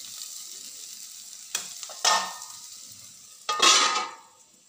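Red pumpkin bhaji with coriander stirred in a pan, then covered to steam: a soft background sizzle with three bursts of louder frying hiss and scraping, the last one longest, fading at the end.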